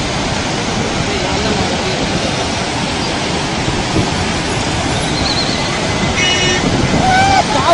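Floodwater rushes loud and steady down the swollen Seti River at Pokhara, a broad continuous roar heard from close by, with a voice speaking over it and faint whistling tones near the end.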